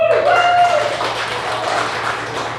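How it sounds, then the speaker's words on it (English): Audience applause at a comedy magic show, a broad wash of clapping with a few cheers or whoops at the start, steady and fairly loud across the room before easing off slightly. "So by round of applause, do you want it to be invisible?"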